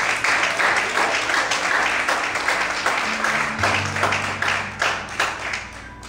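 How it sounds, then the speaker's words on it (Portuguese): A church congregation claps vigorously, a full, rhythmic burst of many hands that rises and then gradually thins, with sustained low keyboard chords swelling beneath it. "Mais fortes palmas."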